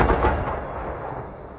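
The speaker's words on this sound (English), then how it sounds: "It's a controlled blast that knocks the fire off its fuel source using, of all things, a large shockwave." A controlled shockwave cannon fires a blast meant to knock a wildfire off its fuel, heard as a sudden deep boom followed by a rumbling decay that fades over a second or so.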